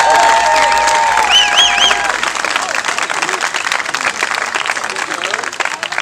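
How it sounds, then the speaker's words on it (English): A crowd at an outdoor charity soccer festival applauds a police pipe band, dense clapping and some cheering, with the band's fading tones and a voice over the clapping at the start. "a big round of applause for the new Westminster Police Pipe Band"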